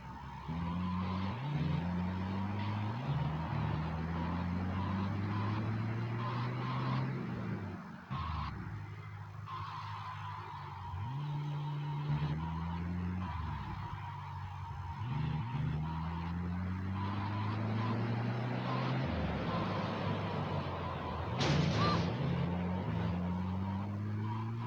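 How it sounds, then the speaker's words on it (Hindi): An ambulance driven in GTA Vice City: a steady engine drone whose pitch rises and drops with each gear and throttle change, broken by a couple of brief tyre skids, loud and continuous with no talking. "ऐसा लग रहा है जैसे हम कोई गाड़ी या फरारी चला रहे हैं।"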